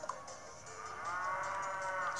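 A cow moos in the video game Miitopia, set in a desert, one long drawn-out bovine call that swells and holds steady, with no talk over it.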